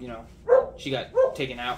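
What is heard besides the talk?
dogs barking, playing outside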